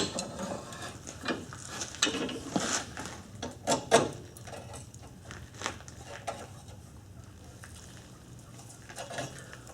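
Blacksmith twisting a couple inches of hot iron bar for ironwork, heard as faint scattered metallic clicks, creaks and clanks with a few louder knocks in the first half, then quieter, no talk.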